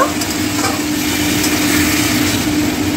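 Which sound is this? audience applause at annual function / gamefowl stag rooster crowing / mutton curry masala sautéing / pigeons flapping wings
mutton curry masala sautéing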